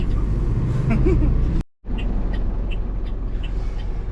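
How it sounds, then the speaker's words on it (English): Steady low road rumble of passing cars and heavier vehicles, continuous and fairly loud, with a brief dropout partway through. "Right on the busy road. This is like the main Gainsborough Road."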